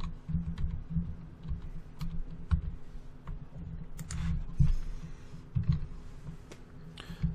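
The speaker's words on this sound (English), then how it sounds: "So I'm going to go ahead and type in the IP address." Someone types an IP address on a computer keyboard, a steady run of quick, light key clicks close by over a low background hum, with no talking.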